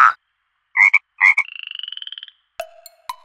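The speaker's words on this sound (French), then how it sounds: "Oui, le crapaud coasse." A toad croaking in a children's cartoon, with a few loud, close croaks followed by a fast, rattling trill that trails off, then a couple of short sharp sounds, with no talk.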